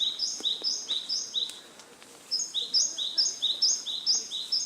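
Small birds sing in a garden, repeated bright chirping phrases in quick bursts, fairly close and clear, with a short lull in the middle before the song resumes more densely.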